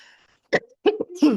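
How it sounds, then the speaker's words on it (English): A few short, harsh coughs close by, one then a quick pair and a final rougher one, with silence between them. "this cough got a little worse"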